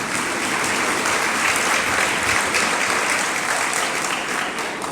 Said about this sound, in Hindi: इसमें ताली क्यों नहीं बजाई तुम लोगों ने?